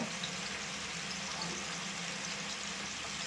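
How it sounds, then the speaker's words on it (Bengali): Rohu fish pieces frying in hot oil, giving a steady, dense sizzle close by, even and unbroken throughout with no talking. "মাছগুলো খুব বেশি কড়া করে ভাজবো না, হালকা একটু লাল লাল করে ভেজে নেব।"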